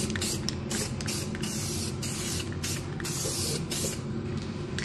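Rust converter sprayed under the body of a Genesis GV80 in short, loud hissing bursts with brief gaps, over a constant low workshop rumble.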